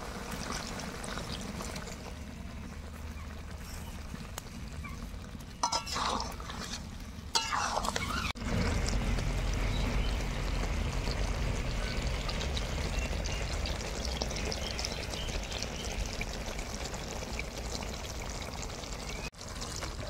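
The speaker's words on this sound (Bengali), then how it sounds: "ঝোলটাকে গাঢ় করার জন্য গুলে রাখা কর্নফ্লোর।" Cornflour slurry is poured into a thin lemon chicken gravy with lemon leaves simmering in the pot, giving a steady pouring and bubbling wash of sound that runs throughout, with a brief clatter partway through.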